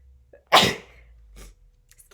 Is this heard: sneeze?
yes